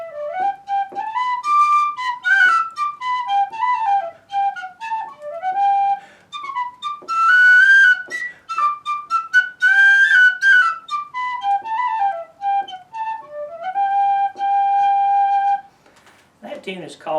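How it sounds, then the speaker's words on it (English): A penny whistle, or tin whistle, plays a lively Scots-Irish tune, clear and bright, with quick ornamented notes and phrases running continuously before ending on a held note. "I'm going to play a tune here on the penny whistle or the tin whistle"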